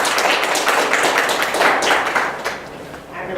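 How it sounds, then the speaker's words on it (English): Applause from a workshop audience after the speaker's talk, a steady wash of many hands clapping close by that thins slightly toward the end. "we'd like to if we could just give another round of applause to the speaker"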